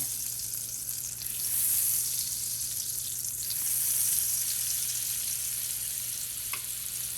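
Potato pieces frying in a mix of oil and a generous amount of butter, a steady bright sizzle with a swell in the middle, close and fairly loud, with no voices over it.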